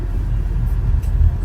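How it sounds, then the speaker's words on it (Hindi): A camper van in snowy Alaska rumbles along slowly with a steady low engine and road drone, close and fairly loud, before coming to a stop to park, with no talking. "इधर गाड़ी खड़ी करते हैं"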